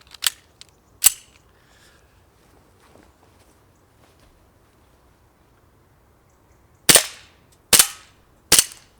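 Gas-powered BB pistol, a Swiss Arms / Remington style 1911, fired at steel targets outdoors in a garden: two sharp cracks near the start, a quiet gap, then three more loud shots with metallic pings in quick succession near the end.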